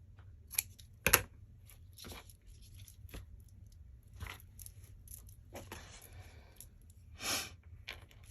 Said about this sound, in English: let's cut it off right here.